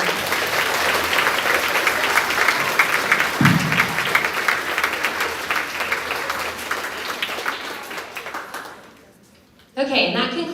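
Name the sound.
audience applause for award winner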